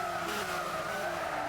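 Race car in Gran Turismo sliding sideways, a sustained tire squeal over steady engine drone, loud and continuous, no voices.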